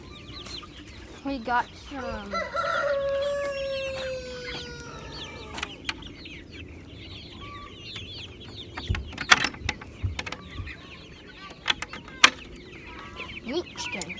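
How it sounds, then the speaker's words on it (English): Meat chickens cluck and call around a homestead farmyard, with short bursts of squawking and a brief crow, while a person talks intermittently over them. "Got lots and lots of meat chickens."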